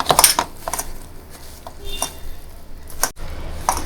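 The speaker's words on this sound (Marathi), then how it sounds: "आणि दही टाकायचं आणि मिक्स करायचं ना" Soya chunks being mixed with yogurt in a bowl, with repeated clinks and scrapes of a spoon against the dish, fairly close and without talk.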